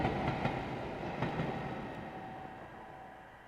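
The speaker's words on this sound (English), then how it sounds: "Ghost train on the tracks." A ghost train on the tracks in Dark Fall: The Journal gives a dense, low rumbling roar with faint clanks that slowly fades as it draws away.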